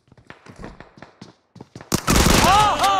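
Shotgun fire in PUBG bursts out loudly after a few softer thuds and footsteps, a dense blast of gunfire with a voice shouting over it.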